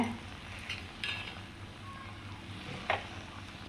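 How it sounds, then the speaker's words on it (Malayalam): A crushed mixture is stirred into cooked raw jackfruit, with soft scraping and stirring strokes plus a few sharper utensil clinks against the pan, close and fairly quiet. "ഇനി നമുക്കത് ചക്കയിലേക്ക് ചേർത്ത് കൊടുക്കാം നന്നായിട്ട് മിക്സ് ചെയ്തെടുക്കേ"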